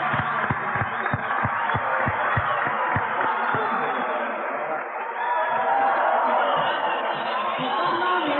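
A festival crowd at a 1995 caporales dance contest in Bolivia applauds the participants. Low, rhythmic drum-like thumps at the start give way to a sustained wash of crowd noise and chatter.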